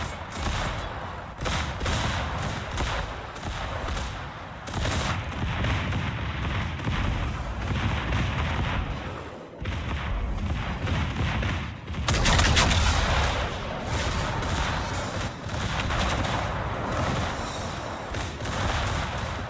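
Naval gunfire in the World of Warships video game, with dense, continuous booming salvos and rattling shots layered over one another for the whole stretch, loud and close, briefly dropping out before a heavier burst.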